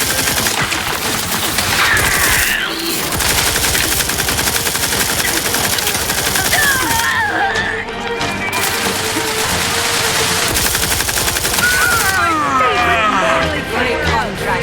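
Rapid automatic gunfire from a firefight in the video game The Outer Worlds 2, loud and continuous bursts layered with chaotic battle noise and effects throughout.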